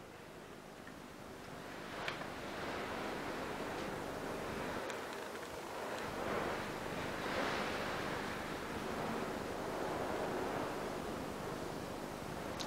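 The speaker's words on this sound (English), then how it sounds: "Listen to that wind." Gale force wind roars outside an abandoned rest home in a steady broadband rush that swells and ebbs over the whole stretch, with a few gust peaks and no talk.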